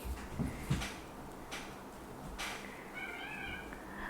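A cat meows after climbing onto a Buddhist shrine shelf indoors, with a couple of clear meows near the start, then further calls and light household knocks.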